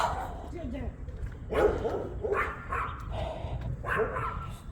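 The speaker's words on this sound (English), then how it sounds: "here comes doggy choir" Several dogs barking and yipping together during a walk, a chorus of overlapping barks in irregular bursts at moderate distance, with a person speaking intermittently.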